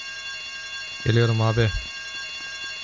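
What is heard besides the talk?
alarm ringing in a bank in GTA Vice City video game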